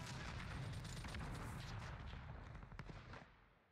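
Rapid gunfire from a weapon in the shooter Warzone, a dense run of overlapping shots with heavy low rumble that carries on steadily for several seconds before cutting off.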